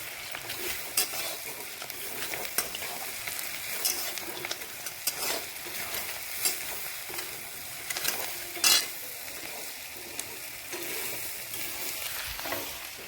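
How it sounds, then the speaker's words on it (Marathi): Cinnamon sticks are dry-roasted in a pan while being stirred for a red chili chutney, a soft rattling scrape and light sizzle repeating unevenly, close and fairly quiet, with one brief louder clatter. "आता ही दालचिनी भाजू."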